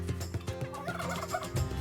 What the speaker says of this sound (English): The turkeys were talking